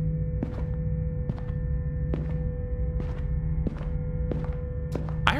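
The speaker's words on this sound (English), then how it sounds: "I heard footsteps." Footsteps in the horror game Mannequin House, a series of about seven evenly spaced, heavy thuds over a steady low electronic hum, close and distinct with no talking.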